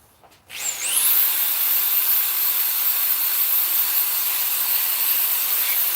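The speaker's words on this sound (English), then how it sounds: "Man, this finger sander is awesome." A finger sander runs on a chainsaw-carved wooden bear, starting with a quick spin-up and then holding a steady, loud, bright whine with sanding friction and no talk.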